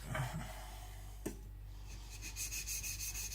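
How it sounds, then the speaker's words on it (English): A Shibata Kotetsu gyuto knife is stroked along a coarse Shapton Pro 220 whetstone, giving a soft, quiet rasping scrape with a sharper click partway through. "Polishing the back side, the right side of the knife."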